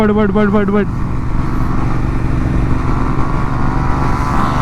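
Yamaha MT-15 motorcycle on a highway, its engine droning loud and steady under wind rush after a brief opening tone, with a voice heard over it.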